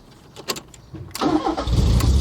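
A Ford Fiesta MK3 1.4 Ghia carburettor engine with the choke on cranks in a few short bursts, then catches and runs roughly and loudly for the last second.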